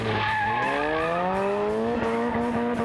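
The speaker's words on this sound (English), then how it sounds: "Nice drifting, nice feathering the throttle. You can hear it." A drift car's engine roars loud and close, revs rising smoothly then pulsing in quick throttle blips, with tire squeal layered over the top.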